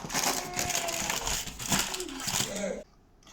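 Crinkling plastic wrap being peeled off frozen homemade vegan energy bars, busy close rustling and crackling for about three seconds before it stops.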